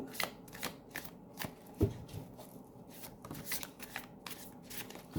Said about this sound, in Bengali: আমি আর একটু শাফল করে একে একে কার্ড নিচ্ছি।